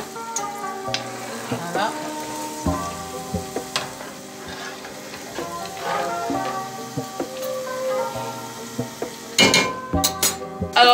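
Potatoes fry and get stirred in a pan, with a steady sizzle under repeated scraping and clinks of a utensil, and a short spoken word near the end.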